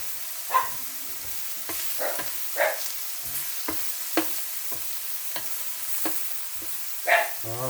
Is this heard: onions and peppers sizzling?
yes